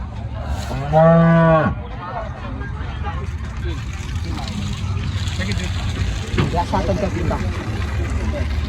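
A cow lets out a loud, drawn-out moo near the start, then a busy outdoor murmur of livestock and indistinct voices continues at the Loni cow market.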